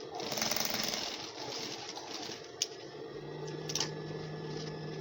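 Sewing machine stitching a folded waistband with gum stay ironed on, a steady rapid mechanical chatter running throughout at moderate level, with a couple of brief clicks.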